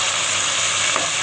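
Shrimp dropped into a pan of sizzling spices, giving a steady, close frying hiss with a soft stir near the end, no voices.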